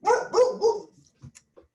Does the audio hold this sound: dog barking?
yes